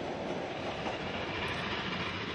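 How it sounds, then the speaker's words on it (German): A special passenger train runs alone along Sweden's Inlandsbahn line, its steady rolling rumble and rhythmic wheel clatter loud and continuous throughout. "Der Sonderzug hat die Strecke ganz für sich alleine."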